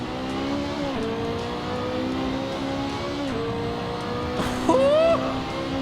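A race car engine in a racing simulator game drones steadily at high revs, dipping briefly at gear shifts and rising again, with a sharper rev near the end, loud and continuous.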